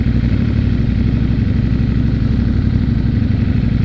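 A stopped motorcycle idles on a backroad, its engine a steady, loud, close rumble that runs unbroken with no talk over it.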